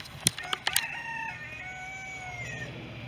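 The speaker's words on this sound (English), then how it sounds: "So here's most of my turkeys and chickens." On a homestead with chickens and broad-breasted turkeys, a rooster crows nearby after a few sharp clucks. The drawn-out call is followed by softer flock sounds, and no one talks.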